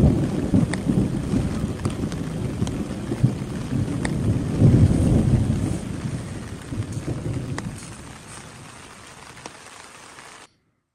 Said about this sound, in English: The next storm came on a little stronger and brought some thunder with it.